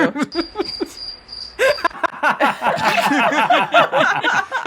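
Soundboard cricket chirps ring out in steady repeating bursts, loud and close, with a brief stretch of laughter-like voices near the start.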